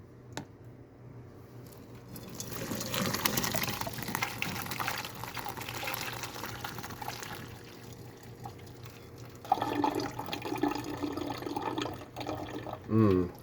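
Cooked pasta shells for Velveeta Shells & Cheese poured into a colander, water splashing and gushing in bursts with a wet clatter near the end.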